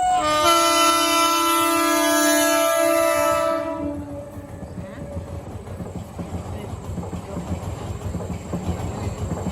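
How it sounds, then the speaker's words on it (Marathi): A loud, sustained train horn blares for several seconds, then a long goods train rumbles and clatters steadily past nearby. "मालगाडी"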